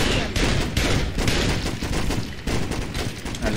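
Dense, continuous automatic gunfire in Saints Row 2, loud and close, with rapid overlapping shots and only brief dips in the barrage.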